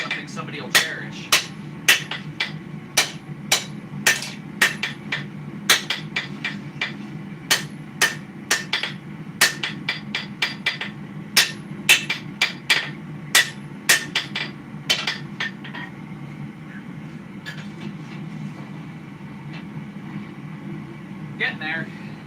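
Steady hand hammering on a sword blade at a forge, sharp metallic strikes coming in quick rhythmic bursts with brief pauses, loud and close over a constant low hum, fading out near the end with a few final blows.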